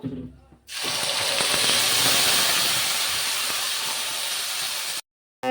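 Ground spice paste tipped into a hot pan of oil already tempered with cumin seeds and dried red chilli, bursting into a loud, steady sizzle that runs for several seconds before cutting off abruptly.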